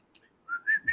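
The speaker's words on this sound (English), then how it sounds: "I'm getting better. I can whistle now." A person gives a short, breathy whistle that rises and holds a steady pitch for under a second, close and clear with nothing else heard.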